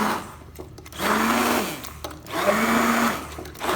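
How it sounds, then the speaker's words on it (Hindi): A kitchen blender whirs through shawarma sauce made with garlic powder in two loud bursts of motor hum, each about a second long, with a short pause between them and no speech. "अब इन सब चीज़ों को हम करेंगे अच्छी तरह से ब्लेंड"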